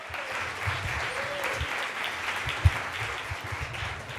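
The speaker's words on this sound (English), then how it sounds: "let's keep the applause going" An audience keeps up steady applause to welcome a speaker named Oscar onto the stage, a dense, even patter of clapping heard at moderate distance with a few sharper thumps toward the end.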